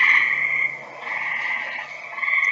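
A green tree frog calls in a sustained, fairly loud croaking trill that dips briefly and then swells again, heard alone with no talk.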